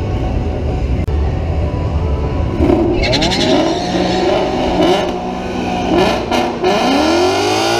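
Engines roar and rev hard as drag racing cars, a Mustang and a Neon, accelerate, with rising pitch sweeps from gear changes and loud, close exhaust noise.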